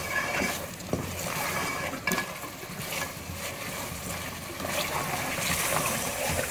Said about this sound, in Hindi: अब इसको भूनना है अच्छी तरह से जब तक तरी नहीं आ जाती।